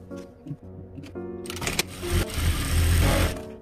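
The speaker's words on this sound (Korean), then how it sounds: "소매 옆선부터 소매 안쪽의 2세 부분까지 쭉 한 번에 연결해 줄게요" A sewing machine stitches a drop-shoulder sweatshirt sleeve seam, starting with a few short bursts and then running into a steady, loud, continuous whir of close stitching.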